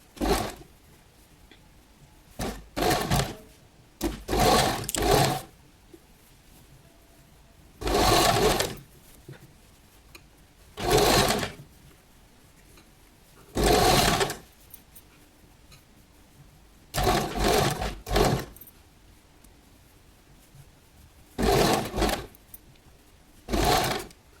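A sewing machine stitches the bodice onto the flared skirt of a girl's party-wear gown in short separate runs of quick whirring, each lasting a second or two, with quiet gaps between them.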